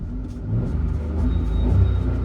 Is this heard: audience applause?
no